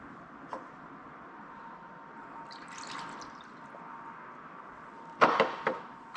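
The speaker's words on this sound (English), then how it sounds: "Next, you're going to add a cup of water." A cup of water is poured into orange Kool-Aid mix in a bowl for dyeing wool. A faint trickle comes first, then a louder, brief splashing pour near the end, in a quiet room.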